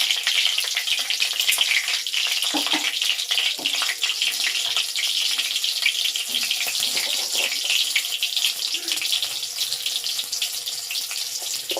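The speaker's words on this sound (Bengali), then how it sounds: "আমি প্রথমে দুটো কাঁচা লঙ্কা দিয়ে দিলাম, একটু জিরে ফোড়ন দিলাম, এটা তেজপাতা।" Green chillies, cumin seeds and a bay leaf sizzle and crackle in hot oil, a steady loud frying hiss with scattered pops and a few stirring clinks, no talking over it.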